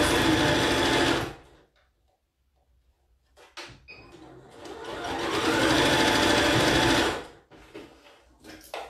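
Sewing machine closing a side seam with a 1 cm seam allowance: a close burst of rapid stitching, a pause with small handling clicks, then a longer even run of stitching before it stops.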